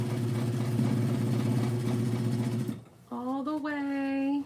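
A sewing machine stitching a wedding dress runs steadily and close for about three seconds with a fast, even mechanical whir, then stops, and a voice follows.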